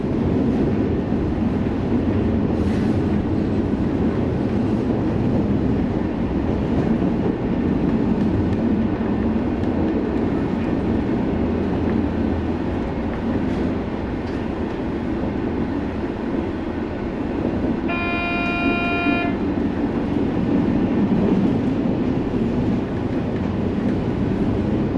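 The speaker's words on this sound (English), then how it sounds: "the arrival of 2 ICE trains at Braunschweig" Two ICE trains pulling into Braunschweig station, a continuous heavy rumble and rolling rail noise throughout, with a brief tonal horn-like chime partway through and no voices.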